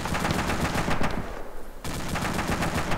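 A jeep-mounted gun fires in Arma 2 in loud rapid automatic bursts, pausing briefly before resuming steady fire.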